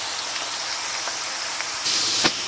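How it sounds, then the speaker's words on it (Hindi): Potato chips deep frying in hot oil, with a dense, steady crackling hiss that swells louder near the end, close and without talk. "ये देखिए माशाल्लाह से कितने अच्छे से ये फ्राई हो रहे हैं।"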